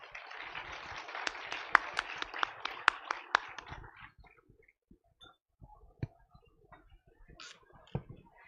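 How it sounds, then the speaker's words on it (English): Festival audience at the Jaipur Literature Festival applauding its speakers, a few seconds of scattered, fairly faint clapping that quickly thins out to isolated claps and small noises. "May we have a huge round of applause for our speakers, please."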